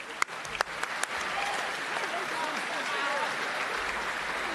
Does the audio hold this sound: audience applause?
yes